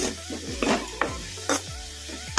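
Chopped onions sizzle steadily in hot oil in a pan over a medium flame while a spoon scrapes and stirs through them in a few distinct strokes, close and clear with no talk.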